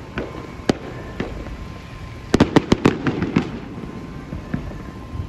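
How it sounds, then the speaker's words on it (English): Scattered firecracker and firework bangs echo across Los Angeles on the Fourth of July, a few isolated cracks followed by a quick cluster of loud reports, over a low background hum. "Check out the fireworks over here in LA."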